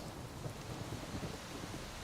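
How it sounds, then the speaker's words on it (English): Steady rain with a low rumble of thunder in The Witcher 3 on Switch, a continuous wash of rainfall filling the scene with no voices. "Oh, bit of rain here."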